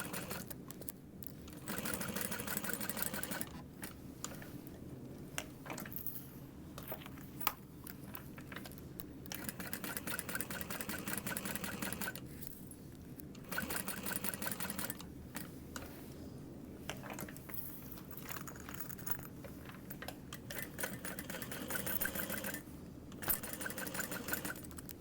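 A sewing machine stitches around the edges of a Mini Triskele bag, its steady mechanical whir running in repeated bursts with brief pauses between runs, moderately quiet and with no talk.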